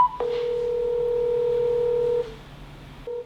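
A telephone call to a broker begins with a short tone, then a long steady dial tone that holds for about two seconds and cuts off, followed by quiet and a brief tone near the end.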